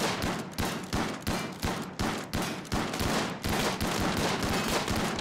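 Rapid bursts of gunfire from colonists in the video game RimWorld, a steady rhythm of repeated shots about every third of a second, loud and close, with no talking.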